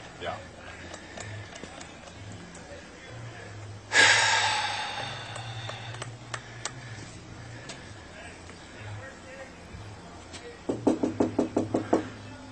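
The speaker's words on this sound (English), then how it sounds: "They still knocking, trying to get her up out the house." Police knock on the door of a house, heard distantly. A quick rapid series of sharp raps comes near the end, and a louder burst of noise sounds earlier, all under ongoing talk.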